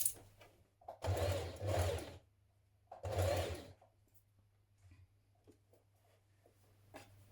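Stretch stitch on a domestic sewing machine sews a neckband onto a knit top in two short runs of close mechanical whirring, separated by a pause, then quiet with faint handling clicks.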